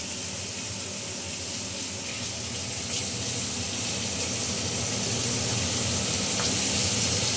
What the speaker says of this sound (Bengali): এবার আমি সবজিগুলোকে একটু নাড়াচাড়া করে নিচ্ছি